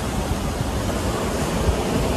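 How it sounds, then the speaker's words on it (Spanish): Sea breeze and surf at Playa Norte beach on Isla Mujeres, a steady broadband wash of waves and wind rushing continuously and fairly loud close by, with no voices. "Se siente la brisa del mar"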